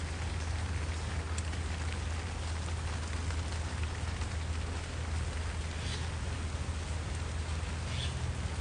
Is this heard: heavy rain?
yes